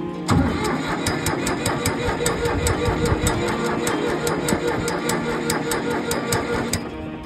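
A Ford 4000 tractor at a rally cranks and fires up, then settles into a loud, close idle with a steady rhythmic ticking running over the engine rumble.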